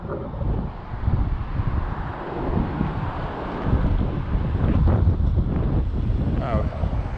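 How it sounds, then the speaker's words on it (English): Steady, loud rumbling wind buffeting the microphone outdoors, continuous roaring noise throughout, with a voice faintly mixed in. "Can't hear you over the wind."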